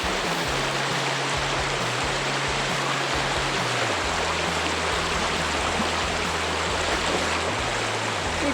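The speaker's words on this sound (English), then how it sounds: "it was time for me to teach Tilly the puppy how to get across the river" A river flows across the whole stretch as a puppy is taught to cross it, giving a steady, dense rush of water that stays loud and even throughout, with no talk.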